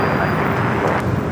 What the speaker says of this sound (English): The Japan Airlines A350 1000 flight heading back to Tokyo Haneda.